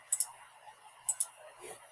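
Two close double clicks of a computer mouse, a right-click and a left-click, sharp and quiet against soft room noise, the second pair followed by a faint breath.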